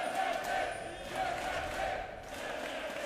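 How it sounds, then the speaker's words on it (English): A large arena crowd at a League of Legends EU LCS match chants loudly in a sustained rhythmic roar, heard at a distance across the hall. "You can hear the fan chants."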